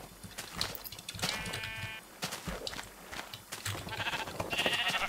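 Sheep in Minecraft bleat several times in short, nasal calls, scattered among quick clicking game sounds and footsteps, fairly quiet overall with no talk.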